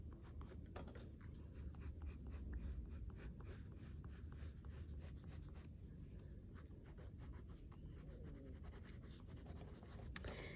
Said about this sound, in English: I can give the outside a little bit more shape with the gold colored pencil.